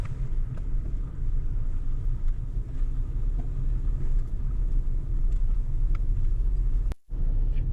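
Continuous low rumble of a car circling slowly through a parking lot, heard from inside the vehicle, steady engine and road noise with a brief dropout near the end.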